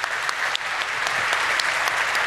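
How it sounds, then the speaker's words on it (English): Steady round of audience applause at a hacker conference after a talk about hacking the power grid, dense clapping holding at an even level throughout. "I want a big round of applause for both SMA"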